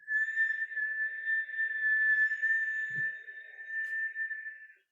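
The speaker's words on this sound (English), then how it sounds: "we're going to pucker the lips and whistle with the in-breath." A steady, thin whistle of breath drawn in through puckered lips during a kundalini yoga pranayama exercise, one long sustained tone that holds for several seconds, close and quiet, with a brief soft thump partway through.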